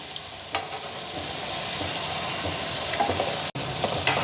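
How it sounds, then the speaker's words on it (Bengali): Sweet potato pantua balls fry in hot oil over a medium flame, a steady dense sizzle and bubbling that carries on close and continuous with a few faint clinks and no talking. "মিডিয়াম ফ্লেমে এটাকে ভাজতে হবে, হাই ফ্লেমে একদম ভাজতে যাবেন না,"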